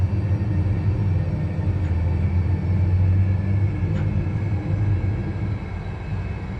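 Landing gear extending on an Airbus A320 in a flight simulator, a steady low rumble with a faint mechanical clunk midway, continuous and moderately loud with no talk.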